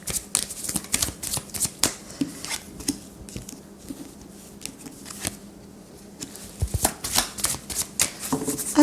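A deck of oracle cards is shuffled by hand for a five-card reading, making quick papery riffles and flicks in irregular bursts with a quieter stretch midway. The sound is close and soft, with no talking.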